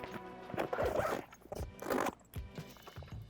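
The top pocket zipper on a Bagsmart Blast Pro 40L travel backpack is pulled open in several close, rasping tugs with short gaps between them.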